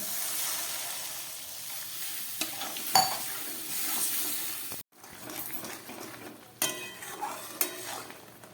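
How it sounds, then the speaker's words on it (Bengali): Water goes into a fried spice masala in a pan, a soft hiss followed by low bubbling and intermittent spoon scrapes and stirring clinks, fairly quiet and close, with a brief silent gap midway and no talking. "মশলাটা একদম কষে গেছে, এবার জল দিয়ে দিচ্ছি।"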